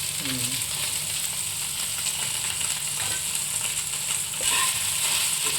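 Spices with turmeric fry in a pan for a soyabean and chana dal dish, a steady close sizzle that holds evenly throughout with light stirring and no talk.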